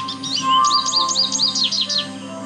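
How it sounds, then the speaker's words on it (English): An American goldfinch song plays from a tape in Nancy Drew: Ghost Dogs of Moon Lake, a rapid run of bright, high twittering notes that sounds clear and close, with no talking over it. "American goldfinch."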